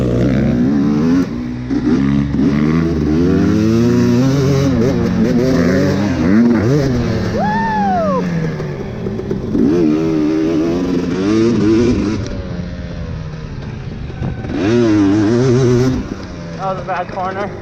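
A Honda CRF150R dirt bike engine revs hard while riding, its loud buzzing note climbing and dropping through repeated throttle bursts and gear changes, with a brief high whine in the middle.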